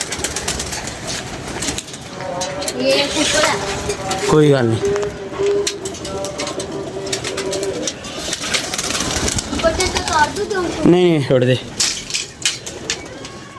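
Pigeons coo in a rooftop loft in Pakistan, low repeated calls running under steady conversation between men, with a brief flutter of wings.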